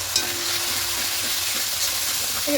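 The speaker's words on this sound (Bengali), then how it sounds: "খুব ভালো করে একটু কষিয়ে নেব" Ground coriander, cumin, Kashmiri chilli and other spice powders sautéing in a pan for a vegetarian cauliflower and potato curry, a steady soft sizzle with light stirring scrapes throughout, fairly close and without talk.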